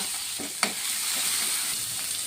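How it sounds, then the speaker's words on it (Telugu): Cumin seeds, curry leaves and green chillies crackle and sizzle in hot oil, a steady bright fry with one sharp clink of a spoon early on. "నూనె కాగానే జీలకర్ర కరివేపాకు పచ్చిమిరపకాయ వేసుకోవాలి"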